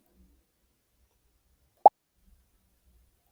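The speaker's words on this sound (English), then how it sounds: "play sound pop until done" A single short, bright pop sound effect from a Scratch game sounds once in otherwise near silence.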